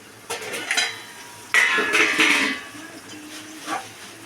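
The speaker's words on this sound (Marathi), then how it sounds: "आपण ताट काढून घेत आहोत" A metal plate lifted off a pot of steaming bombil (Bombay duck) masala on a stove, giving a couple of close clanks and a scraping metallic rattle, then a faint clink, with no talk.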